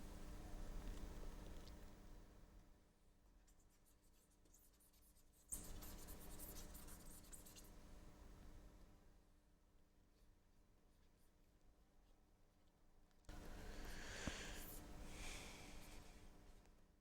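Handwriting in several scratchy bursts of a few seconds each, separated by quiet pauses, close and faint against low room hum, with no talking.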